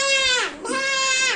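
A person imitates a goat with two loud, close, wavering bleats in a row, each a drawn-out nasal cry with a brief dip between them.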